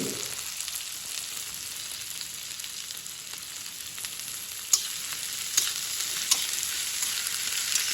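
Cut okra fries in a pan with a continuous, even sizzle, a few faint clicks of a utensil standing out against the steady hiss throughout.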